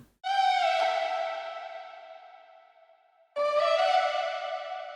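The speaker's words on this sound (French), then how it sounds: "c'est juste en fait un sample de voix un peu trafiqué avec une reverb." A processed vocal sample with reverb: two sustained sung tones, the first decaying into a long reverberant tail before the second enters sharply, loud and without other sounds.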